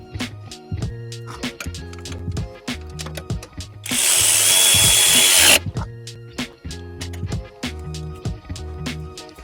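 A power drill tightens a pitch mount on a Subaru, its motor whirring in short repeated pulses with ratcheting clatter. One longer continuous burst of loud hissing noise comes midway, close and fairly loud.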